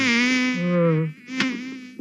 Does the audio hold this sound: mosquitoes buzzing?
yes